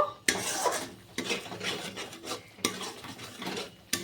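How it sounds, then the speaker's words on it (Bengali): Soybean curry masala being stirred in a pan after a splash of water, four distinct bursts of scraping and rasping from the spoon against the metal, each separated by brief pauses, with a light sizzle underneath. "বাটিটা ধুয়ে জল দিয়ে দিলাম, আর একটু নেড়ে চেড়ে নেব"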